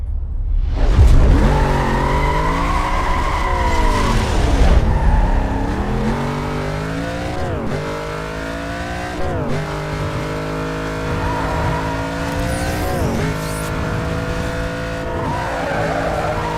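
Video game car engine from Need for Speed: Most Wanted roars and revs continuously, with rising and falling pitch as it shifts gears, punctuated by tire skids and squeals across a long, loud racing stretch.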